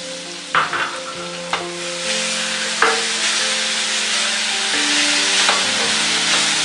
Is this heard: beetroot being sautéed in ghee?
yes